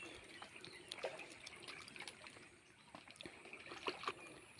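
A gasoline motor pump draws up water to irrigate a farmer's calamansi plants, giving a steady, quiet wash of trickling, splashing water with faint mechanical hiss and scattered small clicks throughout.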